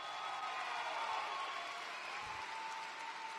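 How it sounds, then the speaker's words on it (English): Steady applause from a graduation audience, fairly faint and distant-sounding, a continuous wash of many hands clapping without a break for a few seconds. "Do they deserve a round of applause for that?"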